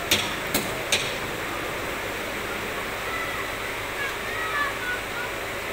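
Steady, loud roar of floodwater rushing through a creek in a subdivision after light rain, with a few faint clicks at the start.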